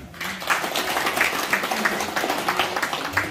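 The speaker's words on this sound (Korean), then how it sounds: "박사님을 큰 박수로 모시겠습니다" Audience applause welcoming a guest lecturer at a talk on feeding management for Korean native goats, a steady wash of many hands clapping at moderate level for several seconds with no speech over it.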